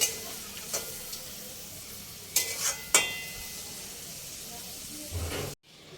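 Pointed gourd cooking in a pan with a little water, a soft steady hiss of simmering with a few sharp spoon knocks and scrapes, close by, ending in a brief thud and sudden quiet.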